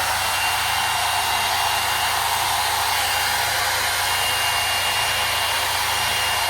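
A hair dryer runs steadily on its hot setting, a loud, constant close-up whoosh with a thin high whine and no pauses from start to end.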